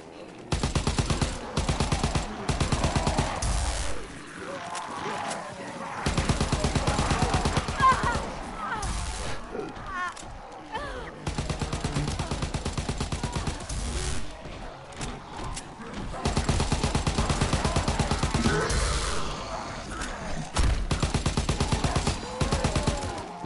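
Gunfire in Call of Duty: WWII Zombies mode: loud, rapid bursts of weapon fire come in repeated clusters separated by brief lulls, with the firing stopping and starting throughout and a voice talking in between.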